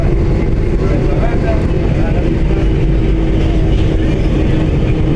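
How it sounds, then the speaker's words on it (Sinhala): A train running past in Dubai, a steady loud rumble of rail wagons with continuous broadband noise and no clear gaps, close by. "ඩුබායි ඔය යන්නේ ට්‍රේන් එක"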